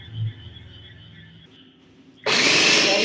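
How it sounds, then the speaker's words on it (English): A kitchen blender pureeing cooked pumpkin and tomato kicks on abruptly after a quiet moment, its motor roaring loud and steady to the end. "puree the vegetables in a blender"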